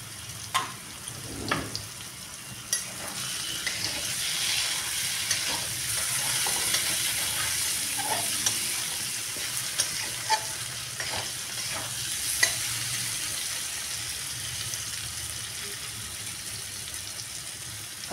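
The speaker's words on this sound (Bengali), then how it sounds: "আলুটাও আমার ভালো করে ভাজা হয়ে যাক।" Potatoes frying in a pan with turmeric and salt, a soft steady sizzle broken by scraping stirs and spoon knocks at irregular intervals, close and fairly quiet.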